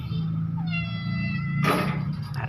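A cat lets out a rising, drawn-out meow close by in a provincial kitchen, over a low steady hum with a brief clatter near the end.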